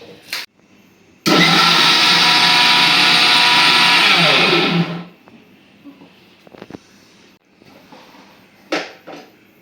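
An electric blender grinds onion, green chili and poppy seeds into a paste in one loud, steady, high-pitched whir lasting a few seconds, then cuts off. Quiet kitchen clatter follows.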